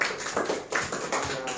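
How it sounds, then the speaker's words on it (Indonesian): A fourth-grade classroom claps for a pupil's answer, a short, fairly soft burst of hands clapping together in loose rhythmic pulses. "Tepuk tangan buat jawaban temannya"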